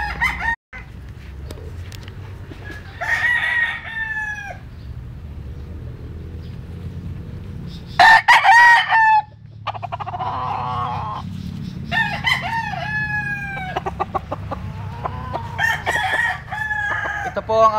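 A newly arrived broodcock, a Joe Sanford sweater crossed with a Carol Smith sweater, crows several times, loud and near, with other fowl calling around it over a low rumbling background.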